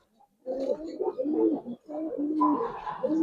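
Giribaz pigeons, silver coloring type, coo close by in a few rolling, throaty phrases that break briefly in the middle and then resume, alone without speech.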